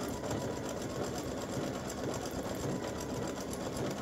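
An embroidery sewing machine stitches a breast cancer awareness ribbon design in green thread, a steady rapid mechanical whirring with a fast needle rhythm, close and continuous with no voices.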